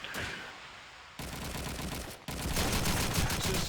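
Rapid gunfire from the video game Call of Duty 2 during a competitive match, dense bursts of automatic shots that cut in and out and swell louder toward the end.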